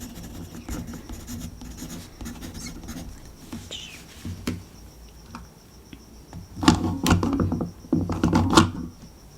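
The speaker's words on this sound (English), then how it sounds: "fill out a card for this one as well" Pen writing on a library card in a quiet, soft-spoken librarian setting: close, dry scratching strokes in short bursts with pauses, growing louder and busier toward the end.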